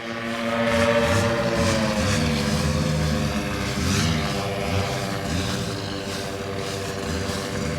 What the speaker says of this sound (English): He just wants to warm the engine up before he takes off.